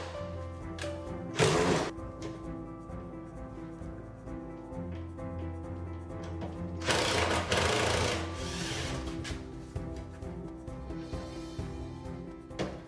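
A power driver whirs in two short bursts as screws securing a dishwasher to the cabinet sides are removed, loud and close against a quiet room.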